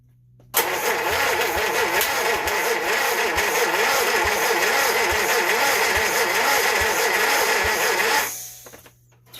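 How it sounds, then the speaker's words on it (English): An old engine with a faulty carburettor cranks over for about eight seconds, a loud, fast, rhythmic starter churn close by that cuts off abruptly near the end, with no speech. "So we're going to put the brake down and see if it cranks over."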